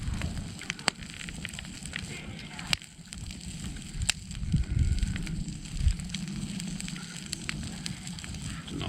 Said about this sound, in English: We're gonna sit down here by the campfire